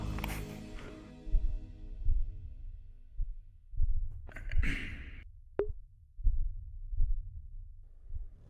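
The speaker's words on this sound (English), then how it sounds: "There's like a heartbeat on the model." A rhythmic heartbeat sound effect pulses from a game model in Aether Chronicles' corrupted forest, slow low thumps repeating steadily after an opening swell, with a brief whoosh and faint click partway through and no talking.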